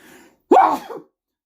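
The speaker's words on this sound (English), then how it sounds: "I have to sneeze." A single sharp sneeze, close and loud, preceded by a faint breathy intake and followed by silence.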